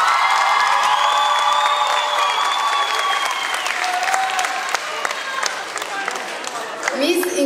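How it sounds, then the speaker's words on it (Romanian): Dense audience applause with scattered cheers and whoops fills a school hall at a freshman ball in Aiud, steady and loud throughout, with a few voices calling out near the end. "Să-i mai aplaudăm încă o dată pe bobocii noștri."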